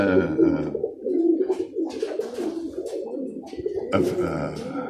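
Birmingham Roller pigeons coo in repeated low, throaty bursts close by, with wing flutters and a person talking intermittently over the birds.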